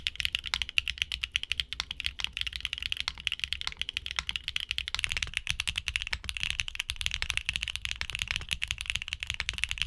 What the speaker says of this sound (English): switches that have a distinct, crisp sound and a solid typing experience